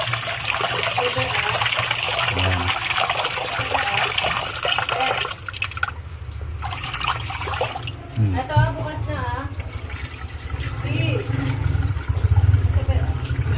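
Rice is rinsed in a pot for the third time, with water splashing and trickling close by in a continuous wash, while a person talks over it throughout.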